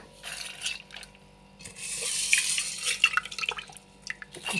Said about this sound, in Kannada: ತೊಗರಿಬೇಳೆಯನ್ನು ಈ ರೀತಿ ಕುಕ್ಕರಿಗೆ ಸೇರಿಸಿಕೊಳ್ಳಬೇಕು ಚೆನ್ನಾಗಿ ತೊಳೆದು